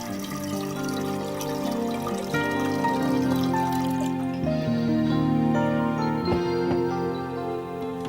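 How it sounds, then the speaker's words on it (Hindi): Three to four cups of water poured into a pressure cooker make a steady, continuous splashing pour beneath sustained background music. "3 से 4 कप पानी डालेंगे।"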